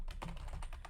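A few seconds of steady typing on a computer keyboard while entering text during a web hacking challenge, with rapid close key clicks and no voices.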